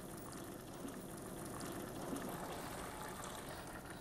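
Water drains in a kitchen, a steady faint rushing gurgle that runs evenly throughout without pauses or voices.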